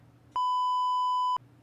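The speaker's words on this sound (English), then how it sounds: "Get the beep ready." A censor beep cuts in as a single pure electronic tone lasting about a second, loud and steady, starting and stopping abruptly between faint stretches of background sound.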